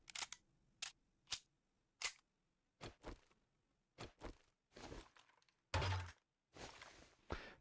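Gun reloading in the video game 7 Days to Die: a quiet series of clicks, thunks and mechanical clacks in irregular rhythm, ending with a heavier metallic slide and latch, with no talk.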